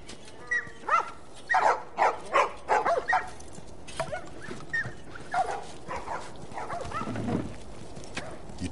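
Dog barks and whimpers from a PS4 video game, a run of rapid yips and barks followed by scattered softer whines and vocal sounds, moderately loud and close.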